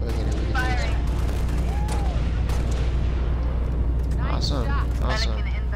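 A target-locator air strike in Halo Reach fires: heavy booms and rumbling blasts roll under a constant low drone, with voices talking over the explosions.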